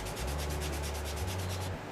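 Steady abrasive rubbing as a file or sanding stick works along the edge of a Tamiya Ford Mustang GT4 plastic model kit body, a close, continuous scraping stroke with no talk.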